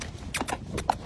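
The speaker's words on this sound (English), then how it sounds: "I'll just give you a canter down here, Betty." A horse's hooves thud in an uneven, rolling cantering rhythm, a few soft beats close by with faint background rustle.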